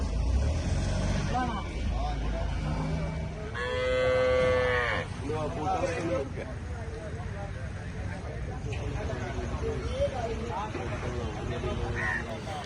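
Cows moo loudly and repeatedly at a busy outdoor cattle market in Chattiparamba, with people talking and vehicle noise in the background.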